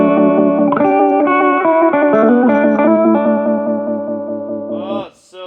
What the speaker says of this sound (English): So that's with the intensity of the vibrato all the way up.